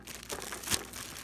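Thin plastic wrap is peeled and crinkled off a pair of JBL Tune 500 BT Bluetooth headphones, a close, continuous rustling with a sharper crackle near the end.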